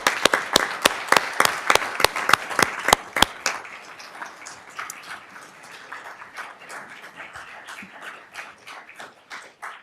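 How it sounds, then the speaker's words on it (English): A few people at a board of education meeting clap in crisp, distinct claps at first, then more hands join in a thinner, scattered round of applause that tapers off in a quiet room. "You deserve a round of applause for that."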